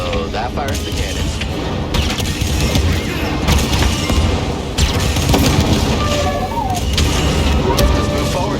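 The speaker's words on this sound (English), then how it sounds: "So that fires the cannons." Cannon fire in Star Wars Jedi: Fallen Order: a continuous barrage of booming blasts and gunfire over mechanical rumble, loud and near, with bursts repeating steadily throughout.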